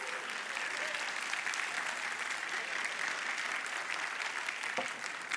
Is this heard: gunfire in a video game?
no